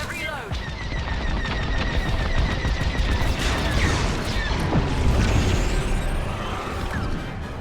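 Sustained rapid starfighter weapons fire in the Star Wars: Squadrons space combat game, with dense overlapping shots and mechanical bursts continuing loud and steady throughout.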